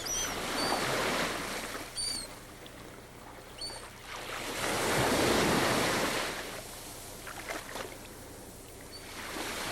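Ocean surf rolls onto a wide beach, surging and receding in slow swells with wind rushing across the microphone and faint bird calls early on, no voices.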